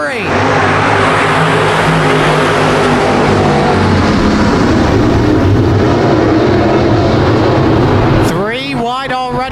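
Late model race cars roar off at the green flag on the Genesee dirt track, a dense, loud, sustained pack of engines with rising whine as a car passes near the end, under an excited announcer's voice.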